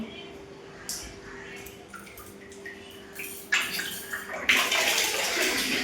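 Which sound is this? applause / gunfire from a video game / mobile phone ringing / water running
water running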